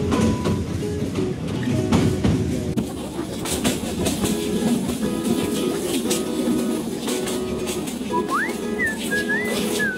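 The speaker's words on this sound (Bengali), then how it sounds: "ট্রেনের এই ঝনঝন শব্দ মোটামুটি সবার কাছে ভালো লাগে।" Train cars rattle and clack steadily along the rails on a journey from Dhaka to Netrakona in Bangladesh, a loud, continuous rumble with a brief whistle-like tone near the end.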